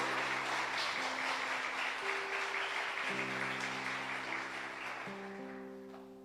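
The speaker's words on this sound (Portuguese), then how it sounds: "dê uma salva de palmas ao Senhor" A church congregation applauds during a sermon with steady clapping. Sustained organ or keyboard chords change underneath, and the sound fades toward the end.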